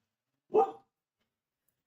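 A single dog bark, fairly close and distinct, followed by silence, then the start of another sound right at the end.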